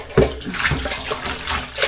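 Water runs and splashes loudly into a container, a steady gushing pour with sharper splashes at the start and no one talking.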